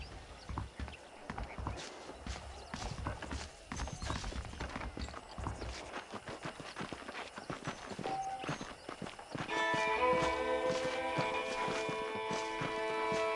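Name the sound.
saddled horses walking, hooves clip-clopping, Red Dead Redemption video game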